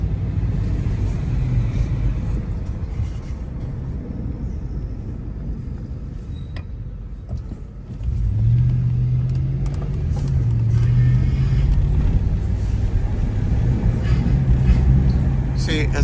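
2006 Range Rover HSE making a scraping brake noise while steering right, a low rumbling drone that swells and grows rougher partway through, heard from close by.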